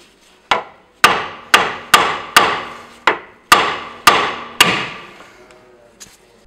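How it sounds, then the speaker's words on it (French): About ten sharp, ringing metallic taps of a hammer on a ball joint nut of a Twingo II 1.2 petrol car, close and loud, spaced roughly half a second apart with fading decays. "dévisser l'écrou, le retourner, le revisser un tout petit peu, taper avec un marteau"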